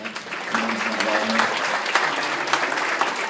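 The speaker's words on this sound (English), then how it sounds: "Can you guys give yourselves a round of applause?" An audience gives a round of applause at a live talk, a steady, moderately loud patter of many hands that keeps going throughout, with a voice faintly under it.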